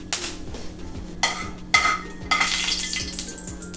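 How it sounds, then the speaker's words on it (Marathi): Whole spices (bay leaves, cardamom, pepper, cloves, star anise and cinnamon) are stirred in hot oil in a pan, with soft sizzling under repeated scraping and clinking strokes of a spoon, close and without talk. "2 तमालपत्री, 2 वेलची, 2 मिरी, 2 लवंगा, 1 चक्री फूल आणि 1 दालचिनीचा तुकडा घालून 1 ते 2 मिनिटं परतून घेणार आहे"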